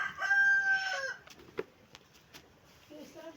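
Hens and ducks in a yard being fed grain: a loud rooster-like crow at the start, then scattered soft clucks and small calls at close range.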